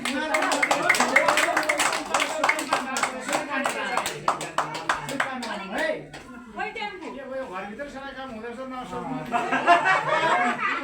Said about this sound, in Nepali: ताली पनि